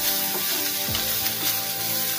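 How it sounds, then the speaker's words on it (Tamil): Onions for an egg gravy sizzle and fry steadily in a pan, a continuous close hiss with a brief stirring scrape near the middle and no talking. "அதே மாதிரி இந்த வெங்காயத்தையும் நல்லா வதக்கிக்கலாம்."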